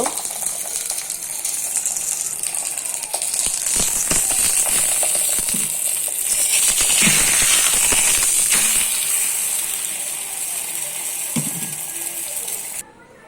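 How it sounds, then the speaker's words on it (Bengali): A frozen paratha fries in a pan with a loud, steady sizzle and hiss, swelling in the middle and easing off before cutting out at the end. "তো ভাবলাম একটা ফ্রোজেন পরোটা ওকে ভেজে দিই"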